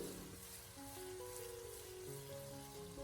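Steady sizzling of tofu frying in a hot iron wok, with soft crackles and a faint low hum underneath, no voices.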